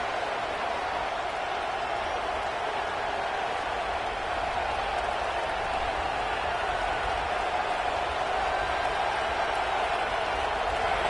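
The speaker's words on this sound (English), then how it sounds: "This crowd ready to make its presence known." Steady roar of a large stadium crowd at a college football game just after kickoff, a dense, continuous wash of voices and noise holding at an even level throughout with no distinct commentary on top.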